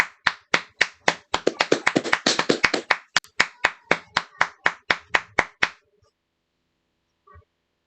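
A few people clap over a Zoom call to welcome a speaker: a quick burst of dense overlapping claps, then slower, steadier single claps that stop abruptly, followed by near silence.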